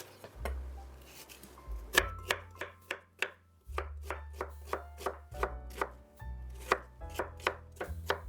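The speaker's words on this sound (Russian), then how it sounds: "Также средними кусочками режу лук." A knife chops through an onion on a cutting board in a brisk, uneven rhythm of sharp thuds, close up, with no talking.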